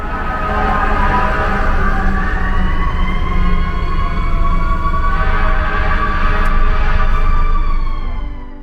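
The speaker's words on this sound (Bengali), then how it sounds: "আর এই যে এই গাড়ির সাইরেনের আওয়াজটা শোনা গেল" A police car siren wails loud and close on a New York City street, its steady rising and falling tone sounding continuously over traffic rumble for the whole stretch.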